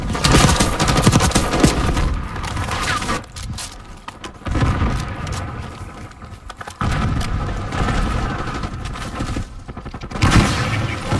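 Rapid bursts of automatic gunfire and single shots crackle nearly nonstop in a first-person shooter match, loud and close, with brief lulls between volleys.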